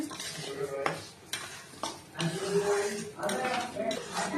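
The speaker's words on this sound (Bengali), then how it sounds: "ডালটাকে আমি ভালো করে ভেজে নেব, লাল লাল করে ভেজে নেব।" Dal lentils frying in a pan as they are stirred, with steady sizzling and repeated scraping strokes of a utensil against the metal, some of them clinking, close and fairly loud, with no talk.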